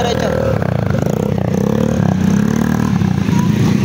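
A motorcycle on a road near the scene of a motorcycle crash in Marilaque rumbles close by, its engine droning steadily with clattering and scraping noise throughout.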